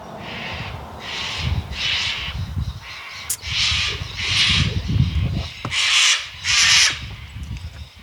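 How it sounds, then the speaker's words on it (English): Harsh, raspy cockatoo screeches repeat in a series of loud squawks with short pauses between them, close by, in Australia. "there's a whole lot of cockatoos here in Australia"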